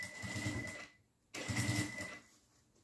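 A sewing machine stitches along the edge of a synthetic vanity case. Its motor whirs in two close, steady runs separated by a short pause, with no talking.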